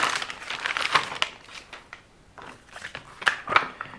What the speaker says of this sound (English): John can't get into a plastic bag